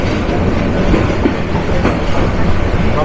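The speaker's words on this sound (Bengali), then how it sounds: "Jamtail station থ্রুপাস আন্তনগর Rangpur express." The Rangpur Express intercity train passes through Jamtoil station in Bangladesh, a loud, close rumble with rhythmic wheel clatter on the rails and a dense low roar throughout.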